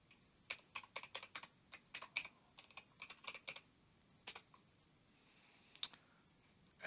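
An administrator password typed on a computer keyboard: a quick burst of crisp key clicks with short pauses, close and quiet, with no talk.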